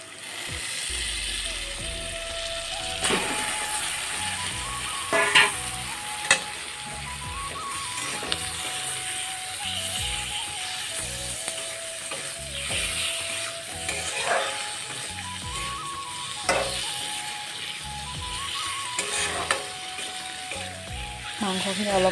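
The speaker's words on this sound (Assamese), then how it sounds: "মাংসখিনি অলপ সময় ভালকৈ ভাজি ল'ম" Meat frying in oil with onion and green chili, a continuous close sizzle broken by scraping spatula strokes and clanks against the pan, with background music running underneath throughout.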